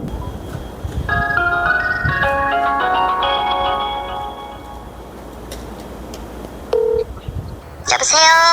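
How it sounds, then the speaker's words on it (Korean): A phone dials out for a call to a real estate agency, giving a run of tonal keypad beeps followed by a ringback tone, while someone speaks Korean underneath. "바로 전화해 봐서 현재 시세가 어떤지 또 세는 좀 잘 맞출 수 있는지 한번 확인 전화 해보겠습니다"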